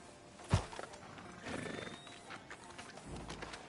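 Horse in the open-world game Red Dead Redemption 2, with a sharp snort or whinny near the start followed by soft hoof clip-clop and ambient movement under the game's background sound.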